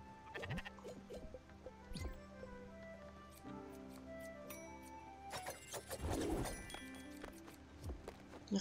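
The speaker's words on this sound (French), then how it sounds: "On va faire une session, je nourris mes moutons avec des poireaux." Sheep in the game Spiritfarer bleat several times over gentle game music and soft bird-like coos, the cries clear and close.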